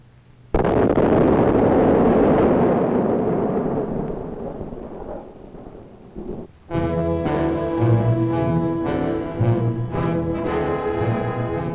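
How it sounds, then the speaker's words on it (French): Rock blasting on a Quebec road construction site: a loud, sustained roaring explosion rumbles for about six seconds, then gives way to music. "Cette explosion spectaculaire, cette voltige des quartiers de roc, signifie pour l'automobiliste une courbe de moins"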